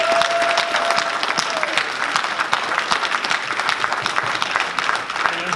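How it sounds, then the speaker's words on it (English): Audience at a women's month community meeting and candidate forum applauding steadily for the whole stretch, a dense wash of many hands clapping at close range with a faint voice briefly audible near the start. "give your kids a round of applause"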